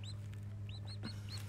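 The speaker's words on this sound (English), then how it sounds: "There's a little happy little chickens down there." Newly hatched baby chicks under a radiant heat brooder panel peep in a few high, short chirps over a steady low electrical hum.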